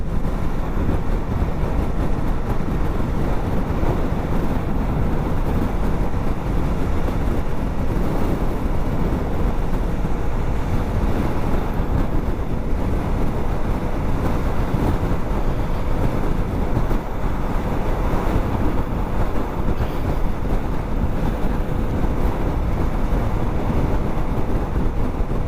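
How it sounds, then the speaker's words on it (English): Strong outdoor wind buffeting a GoPro Hero 6 microphone, a loud continuous roar of low rumbling noise that stays steady and unbroken for the whole stretch, with no talking. "It is windy out here."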